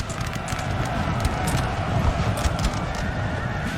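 Cavalry horses neigh and gallop into battle against Russian lines in Napoleonic Total War 3, loud and continuous against dense battlefield noise, with a faint voice underneath.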